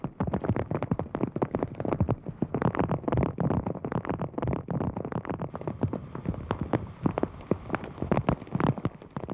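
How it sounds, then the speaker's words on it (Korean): Steady rain patters on a surface, dense irregular drops falling continuously at a moderate, fairly close level. "하지만 빗소리 외엔 아무 소리도 들리지 않았다."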